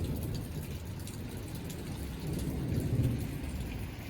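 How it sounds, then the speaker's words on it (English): A fast-moving summer pop-up thunderstorm pours heavy rain in a steady, dense wash, with a low rumble of thunder swelling near the end and no voices. "Love a good little summer storm."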